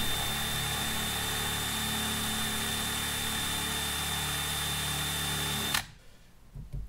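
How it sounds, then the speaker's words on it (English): Power tool roughing up the surface of a hard stainless steel rod, a loud steady high-pitched whine with a constant tone that runs unbroken and then cuts off abruptly near the end, leaving faint room noise. "I'm roughing up the surface. Of the stainless steel rod, and it's not easy because it's super hard"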